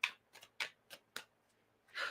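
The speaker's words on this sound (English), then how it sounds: "I'm gonna shuffle these cards." Tarot cards are shuffled by hand in a series of short riffling bursts with pauses between them, ending in a longer shuffle, quiet and close with no talking.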